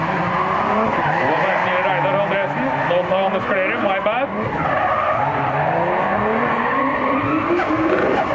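Drift car sliding at a night drifting event at Fritidsparken in Skien, a loud continuous tire squeal and skid with a sweeping engine roar close by, while a commentator talks over it.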